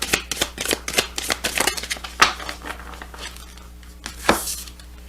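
Wild Goddess Oracle cards being shuffled by hand, a quick series of crisp riffling and slapping bursts up close, then a few slower, isolated card flicks with no voices.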